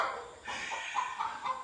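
A hen clucks after laying an egg around the corner, a short series of fairly faint, slightly distant calls with no voices.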